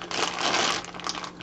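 A huge snack bag crinkles and rustles continuously up close, a dense, busy crackle filling the whole moment without any speech.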